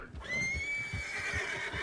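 A horse in the video game Red Dead Redemption 2 lets out one long, loud whinny over rhythmic hoof thuds, close by and with no talking.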